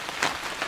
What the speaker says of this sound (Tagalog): Malakas po yung ulan ngayon.